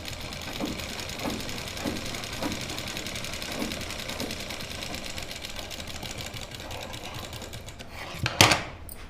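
A sewing machine stitches the shoulder seam of a lined kurti, its rapid mechanical chatter running steadily and fairly close, ending in a brief clunk.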